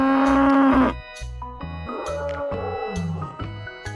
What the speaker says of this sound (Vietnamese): con bò,